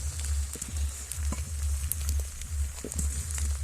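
An egg omelette batter sizzles in hot oil in a pan, a steady close frying hiss with a low rumbling undertone running throughout, no voices.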